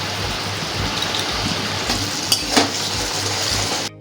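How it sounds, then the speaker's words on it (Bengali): Boiled egg pieces and kasuri methi sizzle in hot oil for a dhaba-style dal, making a constant dense crackle up close with a couple of faint utensil clinks and no voices. "ডিমটাকে আমরা পিস পিস করে কেটে নিয়েছি, সেটাও আমরা এই তেলের ওপর দিয়ে দেব।"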